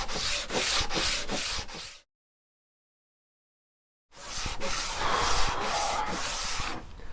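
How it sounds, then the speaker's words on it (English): Sanding block rubbing across a wooden guitar fretboard to shape its radius, steady rhythmic close-up scrapes for about two seconds, a silent gap, then more continuous sanding strokes. "it's going to have to be a sanding block to get that radius in"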